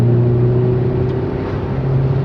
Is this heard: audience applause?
no